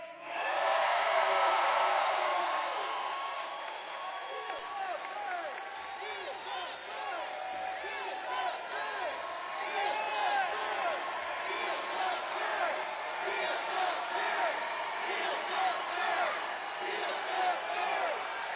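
A large political rally crowd in Detroit cheers and whoops continuously, a loud, dense roar of many voices that stays sustained throughout.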